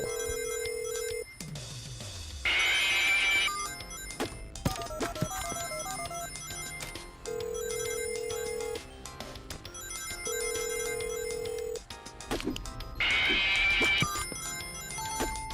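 A phone rings repeatedly in Knuckles' Week at Sonic's, a steady electronic ringtone that sounds in several bursts over a busy game soundtrack with jingles and effects.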